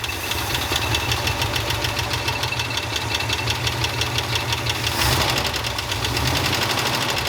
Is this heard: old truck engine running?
yes